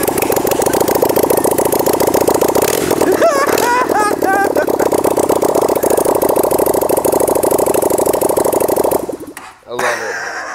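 A V-twin motorcycle bought on Amazon idles loudly and steadily up close, with a brief throttle blip partway through before the engine cuts out near the end; a voice speaks briefly.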